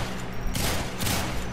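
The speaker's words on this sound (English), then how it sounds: "Shotgun." A shotgun fires in the video game Warframe, two quick blasts about half a second apart, fairly quiet, with no talk over them.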